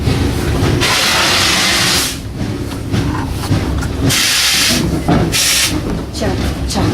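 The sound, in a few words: steam train chugging and hissing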